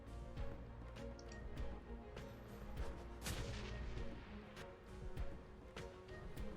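Grenade explosions in the video game Shadowrun: Hong Kong, a series of loud, booming blasts and crashes repeating over steady game music, with no talking.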